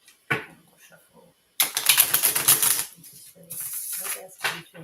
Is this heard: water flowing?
no